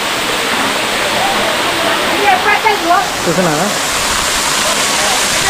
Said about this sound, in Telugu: ఇక్కడ నుంచి వాటర్ ఫాల్ చూడవచ్చు